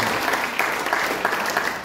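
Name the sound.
congregation applause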